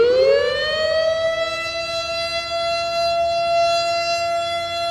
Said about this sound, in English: so with the nuclear alarm siren